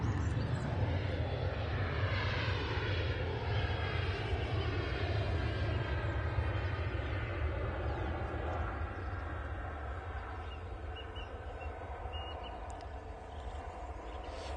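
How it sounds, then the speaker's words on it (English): Ryanair Boeing 737 airliner departing Manchester Airport, a loud broadband jet roar that holds steady and then slowly fades as the aircraft climbs away, with no voices over it. "It's the Ryanair 737 back off to Brussels."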